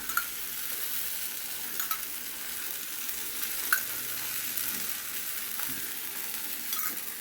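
Adai batter made from rice and four kinds of dal frying in sesame oil, a steady close sizzle with occasional light scrapes and taps of a spatula.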